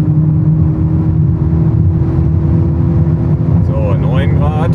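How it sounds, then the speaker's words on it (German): A car at full throttle in fifth gear on a motorway sends out a steady, loud engine drone and road roar throughout, with a few faint tonal sweeps near the end. "So, fünfter Gang und Vollgas."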